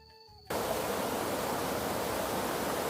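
A mountain waterfall roars as a steady, broadband rush of falling water that cuts in abruptly after a brief quiet moment and stays loud and constant.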